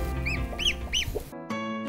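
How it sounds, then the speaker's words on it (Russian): A brooding hen at a village farmyard clucks in a few close, rising calls, soft and rhythmic, with a low steady hum underneath. "Вот курица-наседка."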